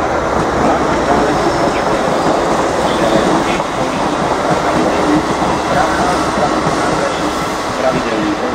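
České dráhy passenger train rolling into a station platform at Pardubice hlavní nádraží, a loud, steady rumble of wheels and carriages filling the whole stretch without pause, with no voices heard.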